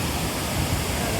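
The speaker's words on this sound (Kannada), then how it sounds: "ಫಾಲ್ಸ್ ಈ ಕಡೆ ನೀರು ಹರ್ಕೊಂಡು ಹೋಗ್ತಾ ಇದೆ" Water rushes steadily down a falls-like channel beside a road in Coorg, a close, loud, unbroken roar with no voices.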